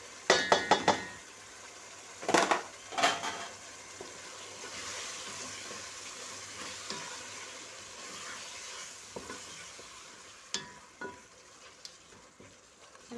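Carrots tipped into tomatoes cooking in a pot for Kenyan pilau, with a few sharp clinks and stirring knocks up front, then a steady soft sizzle and scattered light taps near the spoon.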